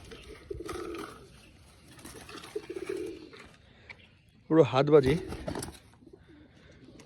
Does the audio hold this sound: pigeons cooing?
yes